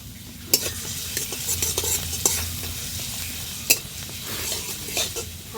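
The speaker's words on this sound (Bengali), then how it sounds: "1 টেবিল স্পুন কুচনো রসুন নিয়েছি," Chopped garlic frying in hot oil in a wok, a steady close sizzle with a few sharp clinks and scrapes of a stirring spoon against the pan, no talking.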